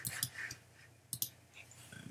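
Computer mouse clicks while working in Adobe Illustrator: a few faint, sharp clicks, some in quick pairs, over a quiet background.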